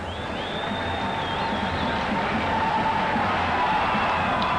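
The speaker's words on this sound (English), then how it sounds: "the crowd absolutely elated" Stadium crowd at a day-night one-day international cricket match in Colombo, 1993, a steady distant roar of cheering from a large crowd, sustained and fairly even across the whole stretch, with a faint whistle riding on top.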